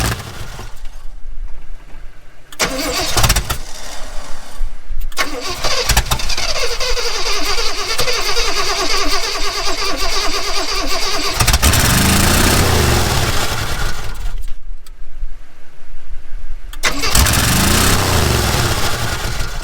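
A 1970 Oldsmobile engine, rescued after sitting for over fifteen years, cranks, catches and runs loudly and roughly, with a couple of short pauses between attempts.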